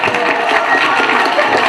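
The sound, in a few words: applause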